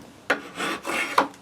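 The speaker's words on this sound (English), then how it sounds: "You don't have to use a draw knife" A draw knife shaves scrap wood into a butter spreader: close, dry rasping strokes, two sharp scrapes and longer smoother pulls between them, in quick succession.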